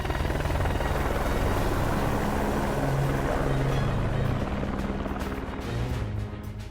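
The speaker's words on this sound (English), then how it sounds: "As he boarded the helicopter" A helicopter in the video game Ace Combat 5 gives a continuous, loud, thumping rotor drone that holds for several seconds and then thins and fades toward the end.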